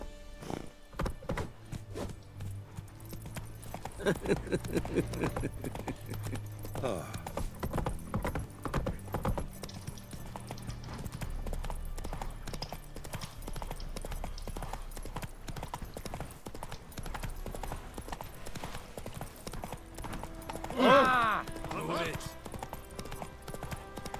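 A horse's hooves clip-clop steadily in The Witcher 3 video game, with a brief whinny near the end, under intermittent talk and in-game sounds.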